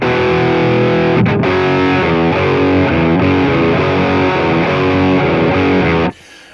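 Electric guitar chords played with heavy gain through a stereo rig of two amps, dry signal only, loud and continuous with rhythmic strums for about six seconds before cutting off abruptly.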